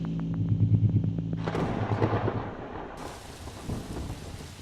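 A loud thunderclap from a lightning strike in a Songbringer cutscene bursts in partway through, then gives way to steady heavy rain; a low tonal game soundtrack plays before the crash.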